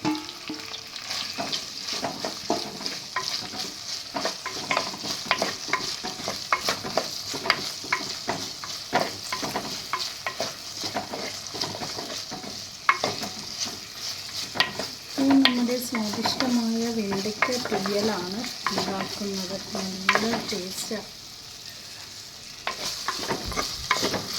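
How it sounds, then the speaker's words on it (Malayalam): Okra sautéing and being stirred in hot oil in a pan, a steady crackling sizzle with frequent scraping stirs and clinks of a utensil against the pot, close and fairly loud throughout. "ഓയിൽ ചൂടാകുമ്പോൾ നമുക്ക് വെണ്ടയ്ക്ക ഇട്ട് കൊടുക്കാം നമുക്ക് വെണ്ടയ്ക്ക് ഇട്ട് കൊടുക്കാം ഇതിൻ്റെ ആ വഴുവഴുപ്പ് പോകുന്നവരെ നമുക്കൊന്ന് വഴറ്റിയെടുക്കാം"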